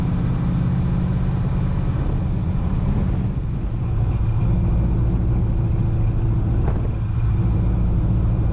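A 1934 Ford Coupe with a new engine rumbles steadily from inside the car while driving, its motor surging and faltering unevenly as though starved of fuel, a low continuous drone with occasional dips.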